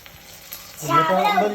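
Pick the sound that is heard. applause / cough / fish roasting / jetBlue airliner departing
fish roasting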